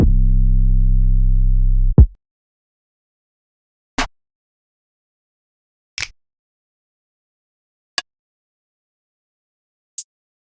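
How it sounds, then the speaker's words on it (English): A dry, booming low drum note, then a punchy hit, then single sharp percussive clicks and ticks spaced about two seconds apart, each with no reverb tail, stepping chromatically through a drum kit's sounds. "a simple chromatic walkthrough of the individual sounds of one of the kits"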